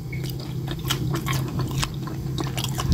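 Close bites and chewing into crunchy salted egg fried chicken coated in butter, a run of crisp crackles and soft moist squishes in an irregular rhythm, no talking.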